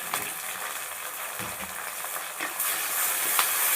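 Steady sizzling of garlic cloves sautéing in hot oil for a dried fish curry, a continuous bright crackle that swells louder toward the end.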